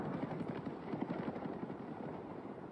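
Faint rapid rotor chop of a helicopter in a shooter video game, a soft rhythmic thudding over a hissy background with no talk.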